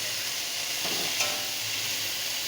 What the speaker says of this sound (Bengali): কলমি শাকটা আমি সুন্দর করে একটু ভেজে নেব।